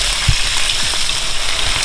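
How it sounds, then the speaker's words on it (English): Shrimp frying in a pan on high heat, a steady broadband sizzle with a few small pops and clicks close by, with no talking. "Right now I have the heat on high, so I'm just gonna leave it on high until the shrimp is cooked."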